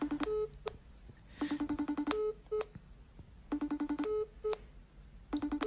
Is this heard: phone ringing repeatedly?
yes